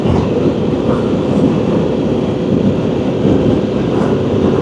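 A Harley-Davidson Pan America motorcycle accelerates with a steady, loud, broadband rumble of engine and wind noise, continuous and close, with no voices over it.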